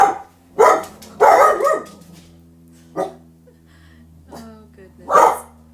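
Dogs bark nearby in irregular bursts of sharp barks and yips with a few whimpers, separated by short pauses, over a low steady hum.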